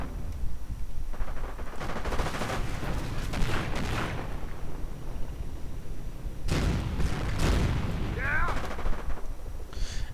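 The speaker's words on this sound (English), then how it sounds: "there goes sniper fire on the Fallschirmjäger" Sniper rifle shots ring out in a World War II strategy game battle against Fallschirmjäger paratroopers, brief sharp cracks amid a dense wash of gunfire and explosions, with a commentator's voice running over much of it.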